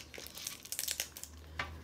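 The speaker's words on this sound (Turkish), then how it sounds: "Beraber bu kutuyu açacağız." Crinkling plastic packaging of a Poopsie Slime Surprise toy box being opened, a short burst of close, soft crackles and rustles with a final sharper crinkle.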